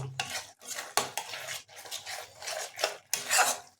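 A spatula stirs and sautés spices for paneer curry in a pan, scraping in rhythmic strokes about every half second, close and clear, with metal scrapes and a faint sizzle underneath.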